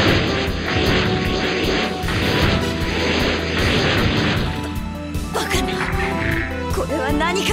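A giant robot's engine throttles up during a battle scene in Super Robot Wars Alpha 2: a loud, dense mechanical roar that holds steady for several seconds, then breaks into sharper clanking bursts and a rising whine near the end.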